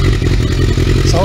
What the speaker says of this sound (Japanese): ちょっと一旦エンジン止めよっか、